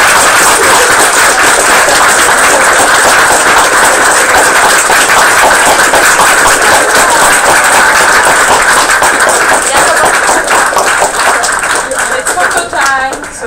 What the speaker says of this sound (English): can I please ask you for one more applause for the OC?